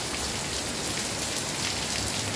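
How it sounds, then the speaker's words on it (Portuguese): Heavy rainstorm pours onto a street in Vaporã, a dense, loud, unbroken hiss of rain hitting pavement throughout, with no voices. "Vou mostrar um pouco dessa chuvarada aqui em Vaporã"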